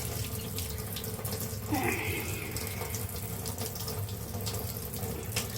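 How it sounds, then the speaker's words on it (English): Tap water runs steadily over soapy hands being rinsed at a sink, a continuous close splashing flow with slight shifts as the hands move through the stream. "Give it a quick rinsey rinse."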